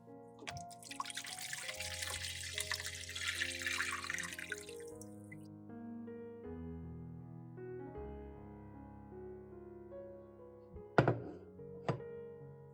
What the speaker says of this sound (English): Pour away the garlic-soaking water